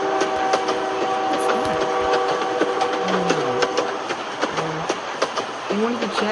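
A train rolls along the rails in a train-collision scene, with a steady mechanical rumble and sustained whistle-like tones throughout and brief squealing sounds partway through.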